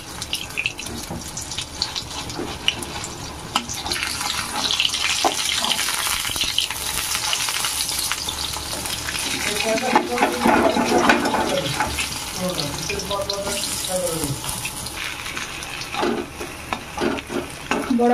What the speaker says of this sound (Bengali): কড়াইতে আমি তেল গরম করতে বসিয়ে দিয়েছি, এবার বড়াগুলো ভেজে নেব।